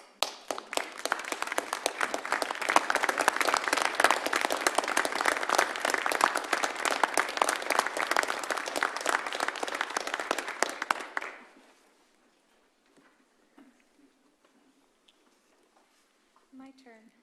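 Standing ovation at a city council meeting, a loud burst of many hands clapping for about eleven seconds that stops abruptly, followed by near silence and faint rustling.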